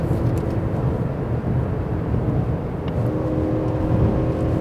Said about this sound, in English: The V8 sounds awesome.